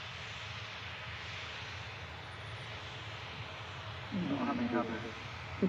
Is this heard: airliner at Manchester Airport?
yes